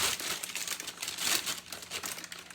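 An organic kale plastic bag crinkles and crackles continuously, up close and fairly quiet, with dense, irregular rustling for a couple of seconds.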